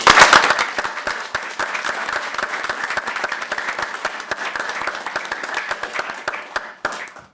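At a Ferndale city council meeting, a room of people applauds long-serving city employees with a steady round of clapping that rises quickly, holds for several seconds and tapers off at the end, with no voices over it.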